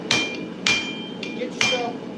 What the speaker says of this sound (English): Don't hammer wrong.